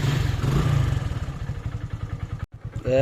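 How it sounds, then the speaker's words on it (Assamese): A motorcycle engine, just started from cold, chugs in a steady low putter with some clattering, a brief dropout near the end, then the idle resumes close by. "আমি এতিয়া বাইকখন ষ্টাৰ্ট দিওঁ"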